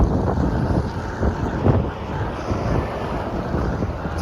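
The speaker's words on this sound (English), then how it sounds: "I apologize for the wind." Steady wind buffeting a microphone while walking outdoors through a city neighborhood in Newark, New Jersey, a loud, continuous low rumble with gusty swells and no talk.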